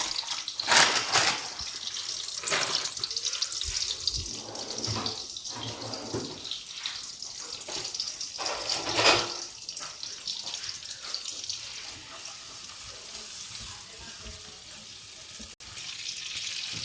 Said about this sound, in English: now that the butter is boiling